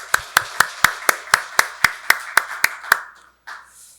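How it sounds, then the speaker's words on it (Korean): A church congregation claps in unison during a Sunday worship service, about eleven sharp, evenly spaced claps in a steady rhythm. The claps then break off and fade into a brief scatter. "하나님께 박수로 영광 돌리겠습니다."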